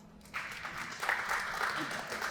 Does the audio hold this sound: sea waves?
no